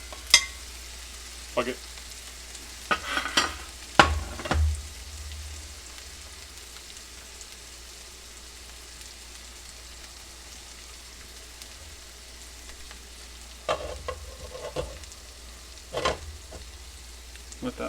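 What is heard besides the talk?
onions frying for Philly cheesesteak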